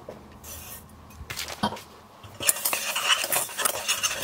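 A utensil stirs flour, starch and sugar together in a bowl, making scraping, clinking strokes that start soft and grow louder and busier toward the end, with no talking.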